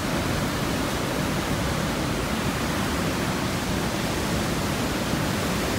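A steady, loud roar of rushing water in Mistaya Canyon fills the space, constant and unbroken, like a powerful torrent echoing close by.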